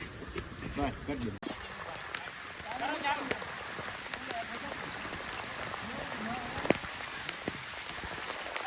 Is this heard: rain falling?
yes